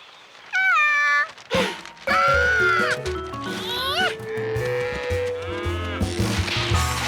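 Several loud, drawn-out cow moos, one after another, with overlapping bellows and some background noise between calls.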